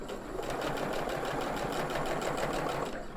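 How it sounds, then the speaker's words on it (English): A sewing machine chain-stitches quilt pieces with a quarter-inch seam, a fast, steady mechanical whir with a rapid needle beat running throughout at moderate volume. "I'll feed these through the machine using a 1/4 inch seam allowance."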